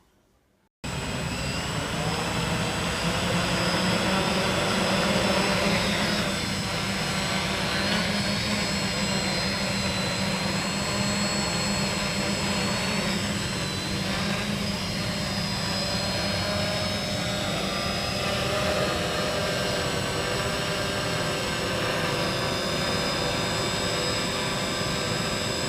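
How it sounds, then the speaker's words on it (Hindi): A custom-built agriculture spraying drone starts up abruptly and flies, its rotors producing a loud, steady, buzzing whine that holds unbroken for over twenty seconds with no talk. "तो अब इस ड्रोन को ऑन करने के लिए हमें इसके सेफ्टी स्विच को प्रेस करना होगा।"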